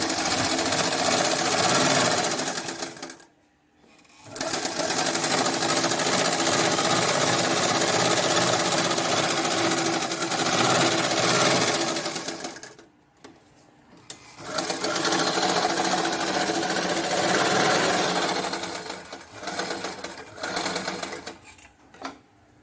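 A sewing machine stitches a blouse at home, its loud, close, rapid mechanical whirring running in long bursts broken by brief pauses and restarts.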